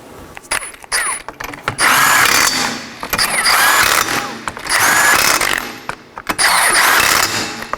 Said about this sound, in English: we're going to reinstall our 5 21mm lug nuts. We're going to want to snug these up in a crisscross pattern